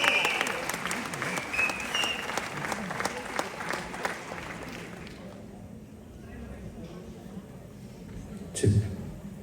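An audience at a music concert breaks into applause, a loud, rapid clatter of clapping that thins out after about five seconds to a quieter murmur, with a brief thump near the end.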